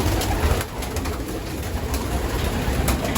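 Pigeons coo in a loft among the birds of a pigeon aviary, a soft continuous murmur under steady background noise with no talking.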